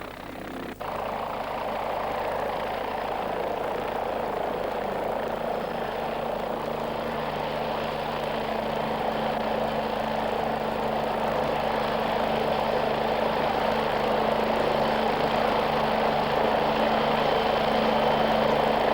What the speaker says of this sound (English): The helicopter then moves on to another position to tackle another tank.